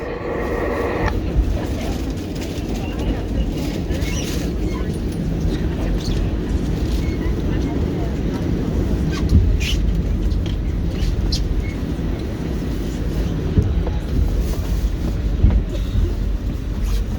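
A New York subway R46 car on the W line, bound for 34th Street–Herald Square along Broadway, gives a steady, loud rumble and roar of riding with occasional brief metallic clanks and squeals, no voices.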